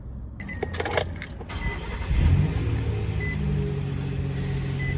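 A Nissan NV2500 High Roof van's engine cranks and catches after a battery fix, then settles into a steady, fairly close idle following some brief rattling and clicking.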